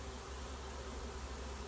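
A honeybee swarm moving into a swarm trap gives a constant, faint buzzing hum of many insects, steady and unbroken with no talk.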